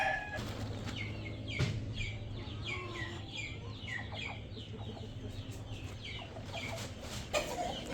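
Lassani rooster and hen clucking close by, repeated short clucks and chirpy calls scattered throughout, with a brief louder squawk, over steady low background noise.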